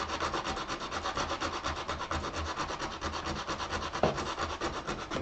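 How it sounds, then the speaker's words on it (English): Heavy sandpaper rubbed steadily back and forth across a foam FPV model aircraft wing, a close, continuous scratchy rasp with a regular stroke rhythm and one brief louder scrape near the end. "heavy sandpaper"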